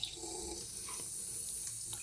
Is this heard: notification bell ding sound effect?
no